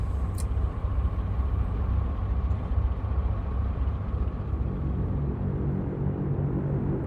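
Twin engines of a Handley-Page Hampden bomber run up in a flight simulator game, a loud, dense, steady roar with a faint tonal hum, holding continuously without pause.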